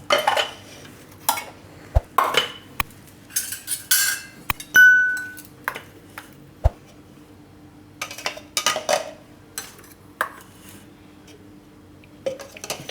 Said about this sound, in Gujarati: તો પહેલાં આપણે આ ભાત છે એને આ રીતની મિક્સર જારમાં લઈ લેવું